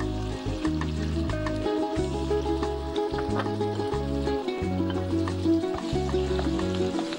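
Garlic and ginger paste sizzling in hot oil as spices fry, a steady bright crackle continuing without pause beneath a loud, sustained low musical drone.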